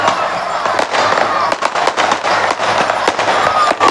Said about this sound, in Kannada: ನೋಡಿ ಪಟಾಕಿ ಎಲ್ಲ ಸಿಡಿಸ್ತಾ ಇದ್ದಾರೆ